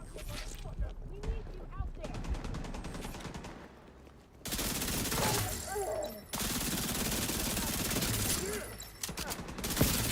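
Repeated gunfire in The Division 2, with dense shots from a pistol and other weapons in rapid strings, loud and close, broken by short lulls, while someone talks over much of it.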